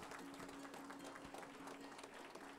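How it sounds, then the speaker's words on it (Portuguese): Brief applause from an audience at a municipal council honorary ceremony, a faint, even patter of many hands heard from a distance with a low steady hum beneath. "Salva de palmas, por favor."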